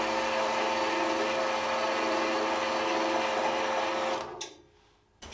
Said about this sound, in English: I took it over to the bandsaw and just quickly cut that off